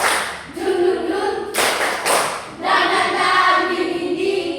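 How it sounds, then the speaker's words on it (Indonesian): Classroom of junior high students doing the 'tepuk semangat' clapping ice breaker: rhythmic bursts of group clapping with brief pauses, fairly loud and close, with chanting voices mixed in. "Tepuk semangat."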